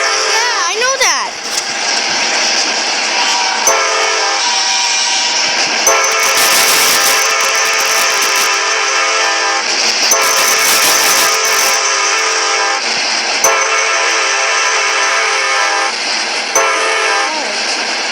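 A CSX locomotive horn in a train video game blares in long sustained harmonic chords, sounding repeatedly in loud blasts over steady rail rumble across the whole stretch.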